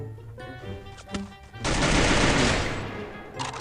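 Gunfire in the battle game Free Fire: a few sharp single shots, then a loud sustained burst of rapid automatic fire lasting over a second. A brief shot follows at the end over a low steady hum.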